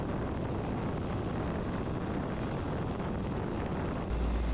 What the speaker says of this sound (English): It's way windier than it's supposed to be.